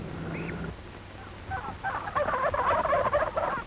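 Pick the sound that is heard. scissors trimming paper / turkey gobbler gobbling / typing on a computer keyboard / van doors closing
turkey gobbler gobbling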